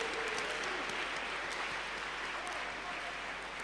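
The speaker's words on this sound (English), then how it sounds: "let's give a clap of praise for David." Church congregation clapping in praise, a sustained dense wash of applause from many hands, steady and fairly distant, continuing for the whole stretch.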